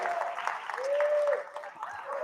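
Conference audience at a main-stage tech event clapping and cheering as someone arrives, a scattered applause bed with a voice speaking over it and a brief whoop.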